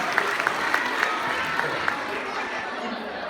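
An audience claps at a live caricature artist show in Singapore, a dense, steady patter of many hands with a few sharper claps standing out and a low crowd murmur underneath.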